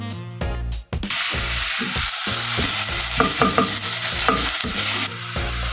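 Vegetables for spaghetti Bolognese hit a hot pan with a loud burst of sizzling after a few sharp knocks, then keep frying steadily as a utensil stirs and scrapes with rhythmic clatter; no talking.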